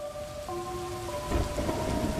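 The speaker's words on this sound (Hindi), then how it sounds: "कुछ दूर जाने के बाद दोबारा बारिश शुरू हो गई।" Rain falls steadily outdoors on a cold, misty night, while a dull roll of thunder swells near the end over a sustained eerie background tone.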